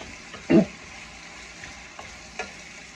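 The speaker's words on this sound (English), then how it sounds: "we're going to let this continue frying for about another minute." Steady low sizzle of chicken frying in a pan for Thai cashew chicken, with a few short sharp crackles and pops breaking through the hiss.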